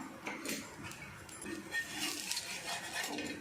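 A dosa is flipped in the pan with clinks and scrapes of a metal spatula, light and close, a few distinct metallic taps over quiet kitchen background with no speech.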